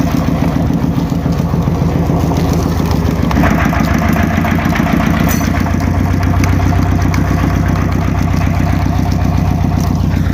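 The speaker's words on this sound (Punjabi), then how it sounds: "ਵੇਲਣਾ ਸਟਾਰਟ ਕਰਦਾ ਹੈ" A diesel-type engine powering a village sugarcane crusher for jaggery making starts up and settles into a steady, loud, rhythmic chugging idle that runs continuously throughout.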